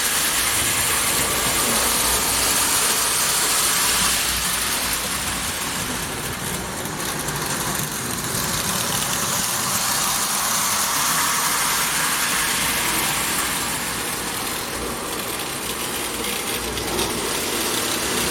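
A Marx 391 Canadian Pacific 2-4-2 toy locomotive, restored in all black, runs with a steady electric motor whir and a hiss, rattling continuously along its track and easing slightly in the middle.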